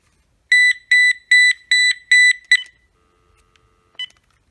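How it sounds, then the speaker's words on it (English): A Uniden analog cordless phone from the early 2000s sounds its paging tone: five quick, loud electronic beep bursts in a steady rhythm, a brief sixth chirp, then silence broken by one short final beep. "Now we can press the page button."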